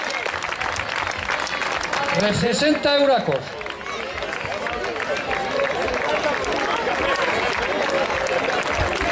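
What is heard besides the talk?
crowd applause for a cross-country race winner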